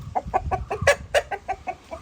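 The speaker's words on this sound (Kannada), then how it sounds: "ಸಪೂರದ ಕೋಳಿ ಇದು" A chicken clucks close by in a quick, even series of about ten short, bright calls.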